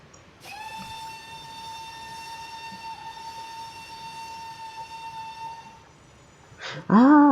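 A pallet locomotive in a Roblox game sounds a long, steady whistle with layered harmonics for about five seconds, then goes briefly quiet before a louder, rougher horn blast bursts in at the end.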